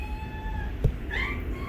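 A house cat being fed gives a single short, rising meow midway, heard close over a quiet room hum with a faint tap just before it.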